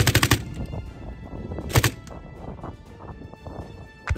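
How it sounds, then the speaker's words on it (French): Bursts of light machine gun fire on the Ukrainian front, a loud opening volley near the start and another around the two-second mark, with scattered sharp cracks and background noise in between. "Pourtant, Lisa, nous l'avons constaté, manie le fusil mitrailleur comme personne."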